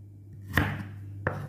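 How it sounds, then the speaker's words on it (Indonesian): A knife chops through turmeric and kencur on a cutting board, two sharp, close knocks about two-thirds of a second apart over a low steady hum, with no talk. "Kita potong juga kunyitnya"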